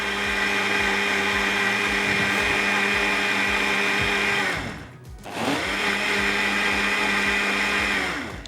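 A blender grinds a strawberry Jam-e-Shirin drink in a loud, continuous close whir that cuts out briefly halfway through and then starts up again at full speed.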